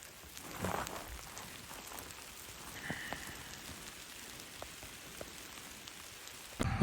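Rain falls outdoors in a forest beside a reservoir as a soft, steady patter of drops, quiet and even, with a slightly louder patch near the end.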